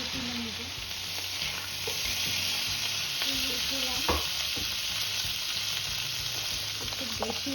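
Onions fry noisily in oil for a prawn bhuna, a constant loud sizzle with repeated spatula scrapes and clinks against the pan, close up and with no talking.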